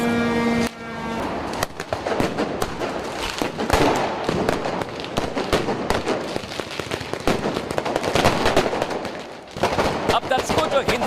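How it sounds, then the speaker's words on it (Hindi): Rapid strings of firecrackers set off by a violent mob crackle and pop continuously, loud and dense, with the crowd's shouting mixed underneath. "जो हिंसक भीड़ थी जो पटाखे छोड़ रही थी"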